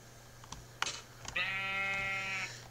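Sheep in a survival video game giving a single drawn-out bleat, close and clear, preceded by a few soft clicks.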